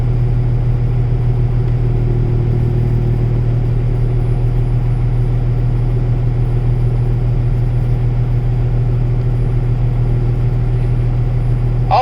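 A 2022 Kenworth 880 truck engine idles loudly and close by, a constant deep diesel drone with a strong low hum that holds unchanged throughout.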